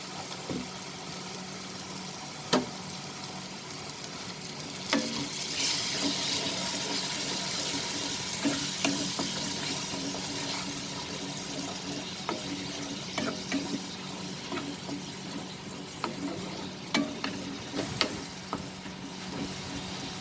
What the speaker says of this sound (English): When we add the tomato paste, we will just let it simmer for a while.